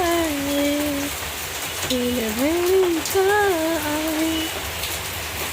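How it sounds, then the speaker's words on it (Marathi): Heavy rain pours in a steady, dense hiss throughout while a person talks over it, the voice rising and falling above the downpour. "किती पाऊस आहे बापरे, भरपूर पाऊस आहे"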